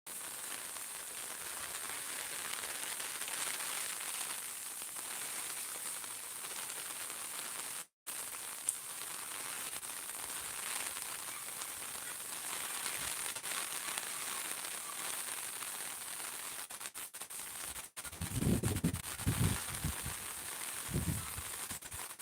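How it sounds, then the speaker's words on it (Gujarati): Heavy rain pours steadily in Akala village, a dense, even hiss of drops on surfaces with no break in intensity, joined near the end by a few low thumps. "સવારનો એક ધારો ચાલુ છે આમનો વરસાદ"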